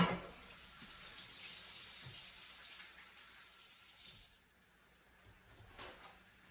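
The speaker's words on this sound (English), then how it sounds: "Let me just wash my hands here." Water runs from a kitchen tap during handwashing, a steady hissing flow that eases off after about four seconds, followed by a brief splash or clunk near the end.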